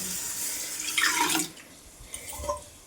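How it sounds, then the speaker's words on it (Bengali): Rice being washed by hand in water: brief sloshing and splashing close up, a stronger swirl in the first moments followed by a few softer trickles and drips. "এইভাবে আমি ভালোভাবে চালটাকে একটু চটকে চটকে ধুয়ে নেব"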